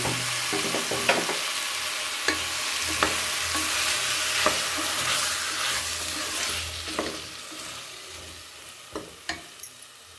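Ground coconut paste hits a hot pan for an ivy gourd gojju, giving a steady close sizzle with a low bubbling hum, broken by sharp scraping stirs and spoon knocks near the end.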